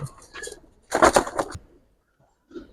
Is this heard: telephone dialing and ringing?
no